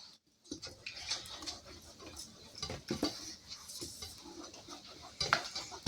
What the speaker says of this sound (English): All right, we're going to give this a stir